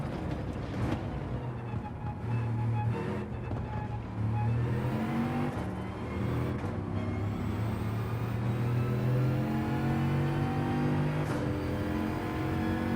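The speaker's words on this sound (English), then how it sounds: "let's see what the Veyron can do" A Bugatti Veyron engine in the racing game Gran Turismo 7 revs and pulls through gears, its rising and falling drone running continuously and loud, with brief sharp ticks.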